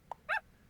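A single short, faint puppy bark from the Super Auto Pets video game, preceded by a tiny soft blip.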